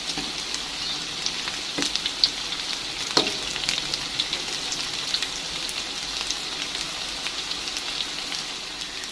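Tongkol tuna frying with chili in a hot pan, a steady close sizzle and crackle of oil with a few sharper pops, no voices.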